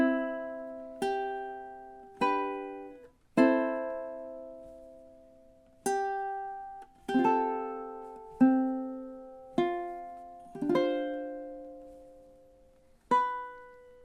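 Ukulele strums measures 7 to 10 of a song, alone and clearly: about ten separate chord strums, each left to ring and fade before the next, at an unhurried pace.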